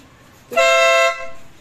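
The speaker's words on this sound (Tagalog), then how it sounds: "Busina" A single short, bright beep of a small scooter horn, sounding for about half a second close by.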